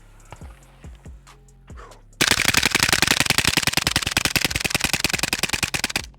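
Suppressed rapid gunfire from a Stenzel SAK-21 AK rifle, a long loud stream of closely spaced shots after a few sharp metallic handling clacks, close and dominant.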